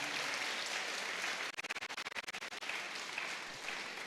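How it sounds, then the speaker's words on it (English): A school audience at a welcome keynote applauds, a soft wash of many hands that briefly turns into a sharp, even rhythmic clap before loosening back into scattered applause, fairly distant and quiet. "Can we clap for ourselves for what we are doing?"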